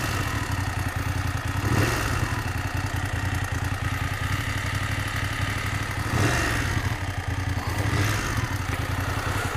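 BMW F750GS motorcycle engine on a test ride, a steady close mechanical drone with light clatter and a few brief swells in revs, along with wind rush.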